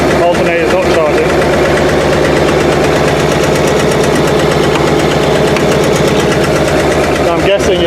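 A Rolls-Royce engine running rough while low on fuel, with the alternator not charging: a loud, close, continuous uneven idle with knocking pulses and vibration, a voice talking over it.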